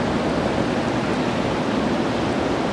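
A river rushes steadily beside a mountain road on the Besham to Chilas route after the 2022 floods, its water making a continuous loud broadband roar throughout with no breaks.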